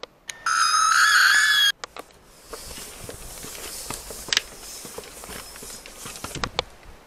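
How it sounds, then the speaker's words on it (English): A loud, shrill, sustained scream bursts out for about a second and a half, followed by quieter footsteps crunching and shuffling nearby. "It was like a scream."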